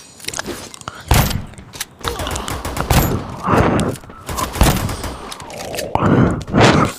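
Rapid gunfire from the mobile battle-royale game Free Fire Max, with sharp repeated shots in uneven bursts across the clip, loud and close, with a voice talking faintly at times.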